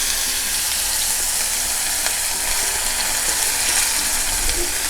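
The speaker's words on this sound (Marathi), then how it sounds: "तेल तापलं आता आपण पहिल्यांदा कांदा घ्यायचा" Onion frying in hot oil in a pan on a gas stove, a steady dense sizzle that holds at an even, fairly loud level throughout with no voice over it.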